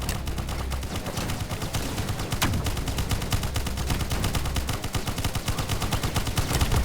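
Rapid, dense gunfire from anti-aircraft turrets in a tower defense video game on nightmare mode, a continuous loud barrage of overlapping shots with no pauses for the whole stretch.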